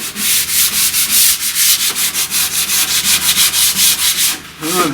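Rapid, rhythmic strokes of 120-grit sandpaper rasping by hand over a primed cyclekart surface, loud and close, with a quick back-and-forth scratching pace and no voices.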